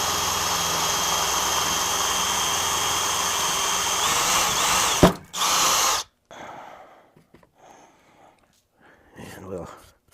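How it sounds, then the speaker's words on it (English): A DeWalt cordless power tool runs with a steady, loud whine for about five seconds and then stops, followed by a short burst and quieter handling noises. "I really like these DeWalt cordless tools."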